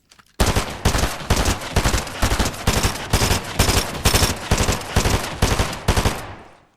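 Rapid bursts of SMG fire in Fortnite, a dozen or so loud, evenly spaced shots in a tight rhythm that ends abruptly and fades out, with no voices.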